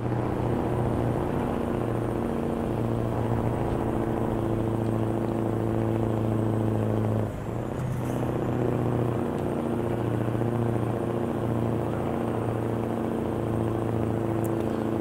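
Heavy truck engine in Euro Truck Simulator 2 labouring up a steep Turkish mountain road with about 23 tonnes of trailer load, a loud steady drone with one brief dip midway, no talking.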